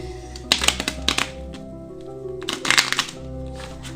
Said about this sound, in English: I'm shuffling these cards really good.